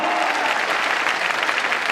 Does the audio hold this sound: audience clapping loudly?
yes